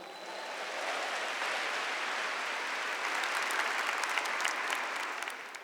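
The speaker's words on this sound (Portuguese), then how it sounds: "Aplaude essa palavra." Congregation applauding during a sermon on Mary Magdalene, a dense, sustained wash of clapping that swells in, holds steady with sharper individual claps, then tapers off at the end.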